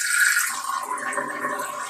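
Water from a newly installed aquarium wave maker splashes and gushes out during a water change, a steady broad wash of sound that continues without a break.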